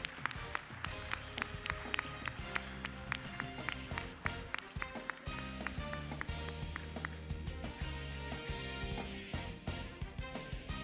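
A live audience claps at a Taj hotel awards show, steady applause with sharp hand claps rising and sustained over several seconds.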